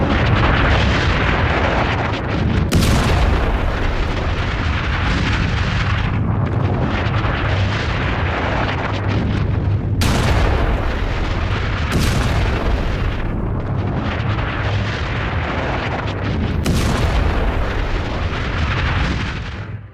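Blasts from an Iranian missile attack on a US airbase in Iraq, a loud continuous roar of explosions with several sharp booms breaking through, heavy and distorted throughout, no voices.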